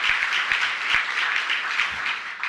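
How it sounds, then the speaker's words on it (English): At a mayor's Emancipation Day breakfast, an audience breaks into steady applause, a dense wash of clapping with a few closer, sharper individual claps standing out. "Give them a round of applause."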